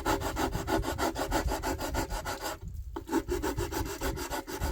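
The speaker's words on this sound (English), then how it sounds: "a little bit of sanding I'll have to do, taking these corners off to finish this radius" Rhythmic back-and-forth sanding rasps on the wooden corners of a Zippkits JAE 33FE model engine kit, close and steady, with a brief pause about two-thirds through before the strokes resume.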